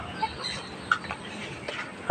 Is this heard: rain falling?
no